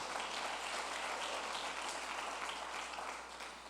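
A church congregation claps steadily during a sermon in a dense, even wash of applause that fades slightly near the end.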